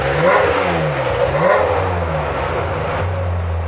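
Ferrari F355 Challenge clone engine with individual throttle bodies, blipped several times in quick succession, each rev rising and falling back to idle, close and loud with no voices.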